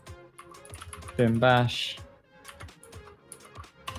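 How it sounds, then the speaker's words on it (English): Computer keyboard typing in a hacking session, a close, rapid patter of key clicks running the whole way, with a voice speaking briefly in the middle. "I'm typing carefully now"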